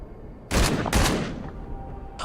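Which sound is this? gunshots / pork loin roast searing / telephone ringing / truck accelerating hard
gunshots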